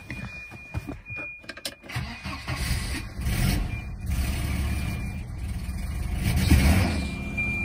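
Volvo 240 with a freshly repaired exhaust cranks and fires up, settling into a rough, rumbling idle that rises as gas is given, close and loud with no talk.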